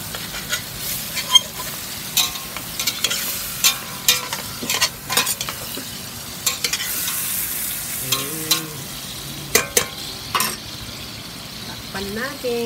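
Food is stirred in a sizzling frying pan, with a steady fry hiss under repeated scraping strokes of the utensil against the pan; short voiced sounds come in now and then.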